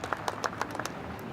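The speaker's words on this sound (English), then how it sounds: "there's some spontaneous clapping there from people" A brief scatter of spontaneous hand clapping from people at the installation of Canada's Governor General, a few quick, light, uneven claps heard at a distance.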